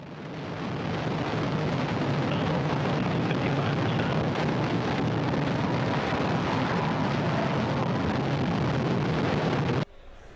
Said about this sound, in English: Orbital ATK's Antares on its way